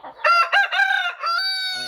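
A rooster crows loudly and close by, a single drawn-out cock-a-doodle-doo with clucking chicken notes around it, among farm chickens at feeding time.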